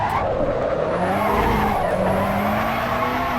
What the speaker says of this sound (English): This is all about drifting now